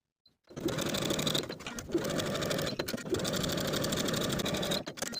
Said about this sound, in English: Then we'll go back to the sewing machine and baste each of the lower edges together.